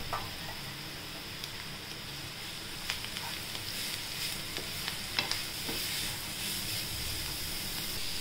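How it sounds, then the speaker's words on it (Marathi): Grated beetroot sautés in a pan for a homemade beetroot rice, giving a steady, low sizzle with occasional soft stirring scrapes throughout, fairly faint and without speech. "आता आपण त्याच्यात ना बीट जे किसून घेतलं होतं आपण ते टाकूया आणि तेही परतून घेऊया आपण 5 मिनिटं"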